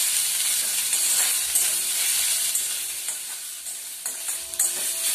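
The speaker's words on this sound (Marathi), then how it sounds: "आता कांदा ना चांगला लाल करायचा आहे।" Onion fries in a little oil in a kadhai while being stirred, a steady bright sizzle broken by scraping, clinking utensil strokes, with no speech.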